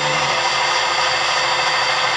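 Dynamyte 3000 CNC lathe spindle running at speed setting 9, a smooth, steady, fairly quiet mechanical hum and hiss heard up close for a brief moment without talk.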